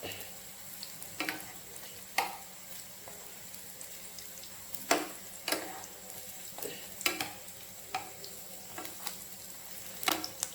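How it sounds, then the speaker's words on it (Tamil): A cutlet made from leftover kothu parotta shallow-frying in a little oil, with a soft steady sizzle and scattered sharp crackles and pops, close and fairly quiet, no talking. "கொஞ்சம் கூட ஃப்ரை ஆகட்டும்."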